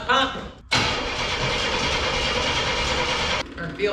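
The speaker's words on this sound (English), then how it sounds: "See if this old race car wants to fire up for us." An old race car engine cranks and catches, roaring to life abruptly and running loud and steady for about three seconds before cutting back, with brief mechanical noise before it starts.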